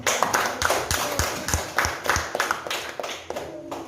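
Hands clap in a fairly steady rhythm, sharp and close, in a classroom during a lesson; a single group round of applause, lasting several seconds.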